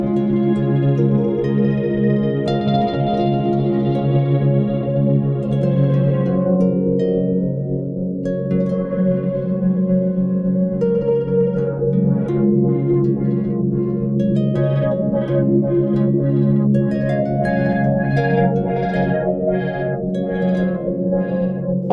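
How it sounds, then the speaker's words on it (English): An Old Blood Noise Bathing pedal gives a filtered delay swept by an expression pedal: sustained, echoing guitar tones whose brightness slowly opens and closes, with repeating trails layered over held low notes. "so you can get a filtered delay that sounds like this"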